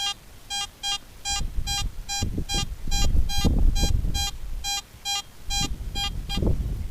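An AT Gold metal detector sweeping over a deep target at a school gives a steady series of short, clear electronic beeps, about two per second. They repeat loudly over the rustle and thump of the coil moving across the ground.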